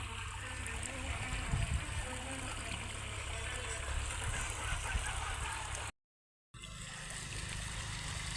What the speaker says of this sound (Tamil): நீங்களே பார்க்கலாம் எப்படி தண்ணி பாயுதுன்னு பார்க்கலாம்.